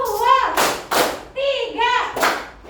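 Children in a classroom clapping along to a counted rhythm, a few loud, sharp hand claps alternating with a voice chanting the count, close and clear.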